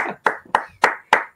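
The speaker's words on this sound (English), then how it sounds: "So I'm not even sure I want to applaud now, but I will anyway, just to be nice." One person claps alone in an online workshop session, giving five sharp, evenly spaced claps close to the mic with no other sound.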